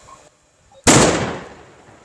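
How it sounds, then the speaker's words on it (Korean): Controlled detonation of an improvised explosive device during a military counter-terror drill: one sudden loud blast after near silence, followed by a long decaying rumble. "폭파."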